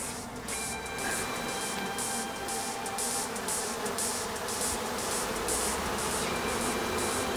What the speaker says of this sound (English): Once a few bees are in position, then they are quite attracted to the other bees.